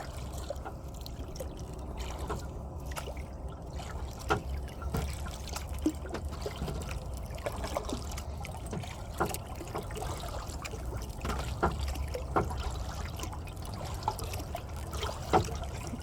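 Paddle strokes dipping and pulling through calm water beside a MacGregor 26M sailboat, a steady stream of soft splashes, trickles and drips, close and moderately quiet, with no talking.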